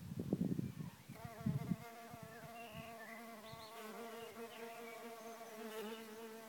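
Mason bees (Osmia rufa) buzzing around a bamboo bee hotel, close and steady with sustained harmonic wingbeat drones, several overlapping tones and passes, preceded by a few seconds of louder rustling handling noise.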